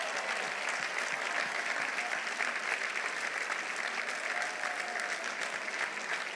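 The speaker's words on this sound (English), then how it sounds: "give them a round of applause" Sustained applause fills a commencement ceremony hall, a dense, even wash of many hands clapping at moderate distance for several seconds.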